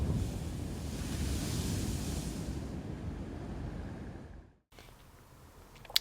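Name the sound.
ocean waves heard from a camper van at night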